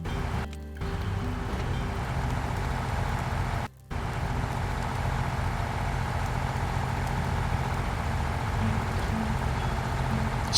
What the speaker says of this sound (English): as he places it into low gear, you see that the engine starts getting louder.